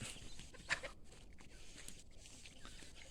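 A bantam chicken gives a few short clucks close by amid low background rustling, with one sharper squawk standing out.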